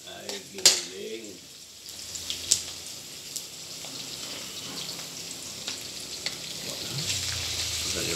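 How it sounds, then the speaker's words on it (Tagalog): Ground pork dropped into a pan of browning garlic and onion, cooked for Filipino-style spaghetti, sets off a steady broadband sizzle with a few sharp clicks and scrapes near the start; faint talk is briefly audible. "Medyo brown na yung bawang, sibuyas. Sunod na lalagyan natin ay giniling."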